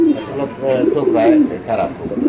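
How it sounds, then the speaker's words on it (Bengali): Large pigeons for sale coo in low, throaty murmurs close by, mixed with people talking over them. "এই সামনেটা হচ্ছে নরকবুতর"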